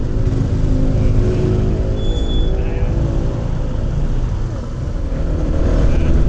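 Road traffic rumbling beneath a flyover near Kalayaan, a continuous close low engine drone with passing vehicles and a faint brief high tone, steady and fairly loud.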